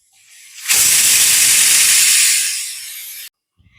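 A loud, steady hiss of steam escaping from a pressure cooker whistle while cooking mango and cucumber dal, lasting a few seconds before cutting off abruptly.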